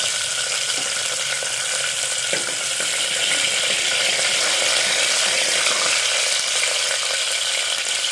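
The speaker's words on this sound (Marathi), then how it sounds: "आणि त्याच्यात टाकूया जिरा व्यवस्थित परतून घेऊया" Cumin seeds sautéing in hot oil in a home kitchen for Puneri misal give a steady, close, hissing sizzle that holds evenly throughout, with faint scraping underneath.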